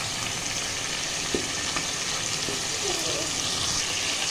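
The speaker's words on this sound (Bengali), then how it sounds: "এই পর্যায়ে আমি মাছের মাথাগুলো দিয়ে দেব। এটা আমি 2 মিনিট পর্যন্ত কষাবো।" Fish heads frying in a cooked spice masala for moong dal, a continuous dense sizzle with a few soft utensil taps, no talking.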